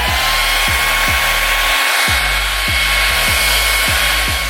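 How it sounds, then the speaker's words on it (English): A heat gun blows a steady, loud whoosh of hot air across carbon fiber trim pieces for an A90 Toyota Supra, its motor humming continuously with a brief dip partway through and no talking. "And we'll just heat both of these up a little bit."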